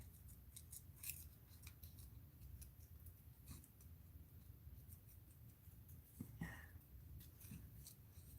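Scissors make quiet crisp snips through paper for an art project, a quick run of cuts early on and a few more later, faint and close over a low background hiss.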